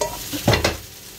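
Potatoes frying in a pan with spices for a home-cooked lunch, giving two brief scraping stirs against a faint sizzling background, close and fairly quiet.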